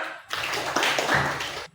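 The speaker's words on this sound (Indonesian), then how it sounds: "Oke, tepuk tangan untuk kita semua." A short burst of applause from a classroom group, dense clapping lasting about a second and a half, close by.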